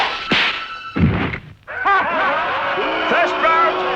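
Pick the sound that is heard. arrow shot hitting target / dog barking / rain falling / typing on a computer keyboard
arrow shot hitting target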